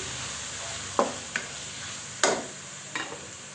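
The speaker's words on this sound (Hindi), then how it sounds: "1 टीस्पून ऑरिगेनो डाल के हमने इनको अच्छी तरह से मसालों को मिक्स कर लेना है।" Spoon stirring oregano and spices into white-sauce chicken pasta in a pan: a quiet sizzle under four distinct scraping strokes spaced about a second apart, with no talking.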